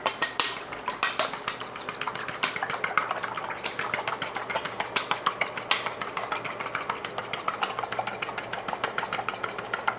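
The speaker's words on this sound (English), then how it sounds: "We'll whisk these bad boys up, break the yolk" A fork whisks eggs in a bowl, producing fast, steady metallic clicking and tapping that continues for several seconds at close range over a faint background hum, with no one talking.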